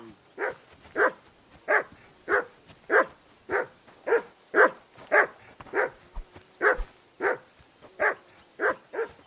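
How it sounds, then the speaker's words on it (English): A dog barks repeatedly in Kingdom Come Deliverance 2, about sixteen loud, evenly spaced single barks over a few seconds each, clear and close against a quiet outdoor riverbank background. "Jesus, Henry, that barking's driving me nuts."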